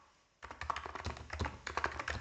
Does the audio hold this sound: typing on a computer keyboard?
yes